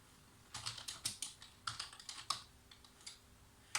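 Code is typed on a computer keyboard in quick, irregular bursts of crisp, close key clicks with short pauses between them, and no talking.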